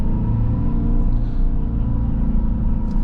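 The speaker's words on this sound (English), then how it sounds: "as you accelerate, it just continues and progresses forward with that rumbling getting louder and more intense" A 2025 Dodge Charger Daytona Scat Pack electric muscle car plays its simulated engine sound, a loud, steady low rumble with a throbbing pulse heard from inside the car, with no talking.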